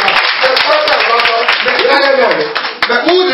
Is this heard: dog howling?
no